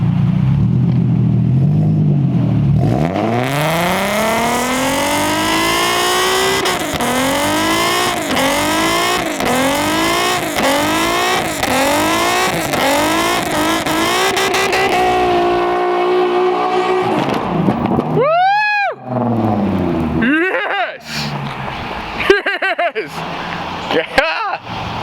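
An Infiniti Q50 AWD does a tire burnout: the engine revs up repeatedly in rising, rhythmic surges over loud tire squeal, then cuts to a few sharp revving bursts near the end, with people talking and cheering.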